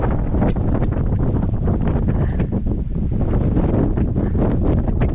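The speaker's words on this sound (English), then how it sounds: "Sort of still blowing an Antarctic gale." An Antarctic gale blows over Bathurst Harbour on a voyage toward Strahan, a loud, unbroken roar of wind buffeting the microphone for the whole stretch, with no voices.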